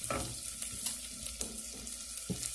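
Food sizzles steadily in a hot pan while being stirred and seasoned with salt and pepper, with soft scrapes and light clatters of the utensil recurring throughout the short stretch.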